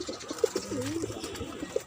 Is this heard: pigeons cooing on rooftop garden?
yes